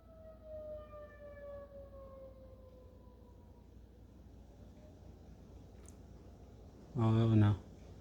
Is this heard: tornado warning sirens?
yes